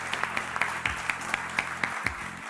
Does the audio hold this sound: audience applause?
yes